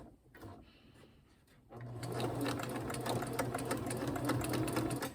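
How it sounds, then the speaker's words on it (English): A domestic sewing machine stitches fabric scraps, its steady motor whir starting after a brief quiet lead-in and running continuously at close range with fine rhythmic needle ticking. "I'm just going to start sewing it"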